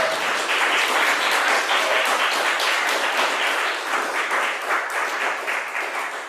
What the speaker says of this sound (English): Can we have a round of applause for Mose